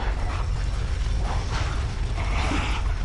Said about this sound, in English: we're gonna run right past them and get on the elevator